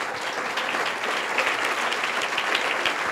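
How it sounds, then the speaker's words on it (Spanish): Loud, dense applause from a church congregation during a sermon, a continuous wash of many hands clapping at once with no pause. "Dele un aplauso fuerte al Señor."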